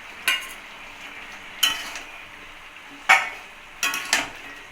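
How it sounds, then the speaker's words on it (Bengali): Fried shrimp are tipped into a pot of simmering vegetables and stirred, giving four brief scraping clinks of a spoon against the pan at uneven intervals over a quiet background, with no talking. "এখন ভেজে রাখা চিংড়িগুলো ঢেলে দেবো"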